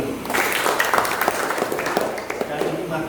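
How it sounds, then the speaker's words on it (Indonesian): A burst of clapping from a group at an Indonesian school teachers' meeting, dense and steady, with voices mixed in underneath. "tepuk tangan untuk kita semua dulu"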